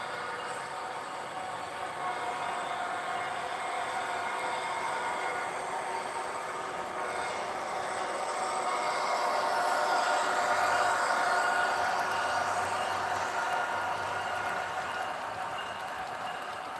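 A model express train runs on a layout, a steady low rumble and rolling clatter that swells as it passes closer midway, then eases off.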